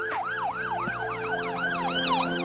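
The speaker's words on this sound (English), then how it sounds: "an emergency vehicle will probably switch off its siren as it follows you" An emergency vehicle siren wails in a fast, repeating rise-and-fall pattern, loud and steady throughout with faint road traffic beneath it.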